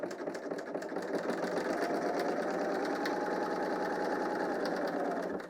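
A BERNINA L 890 sewing machine stitches knit fabric with a steady, continuous mechanical whir that runs for several seconds at close range, then tapers off at the end, with no talking.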